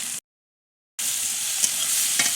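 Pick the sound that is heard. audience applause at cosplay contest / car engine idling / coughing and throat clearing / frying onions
frying onions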